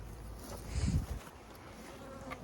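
Honey bee buzzing close to a beekeeper at an open hive during a first honey harvest, a brief louder low drone swelling near the middle before fading into a softer background hum.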